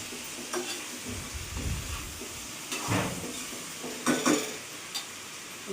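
Masala and coriander frying in a pan, a soft sizzle broken by several scraping stirs of a spoon against the pan, close up with no talking.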